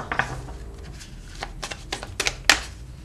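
Tarot cards riffled and shuffled by hand in a series of short, crisp bursts with soft slaps between them, fairly close and moderately loud, with no talking.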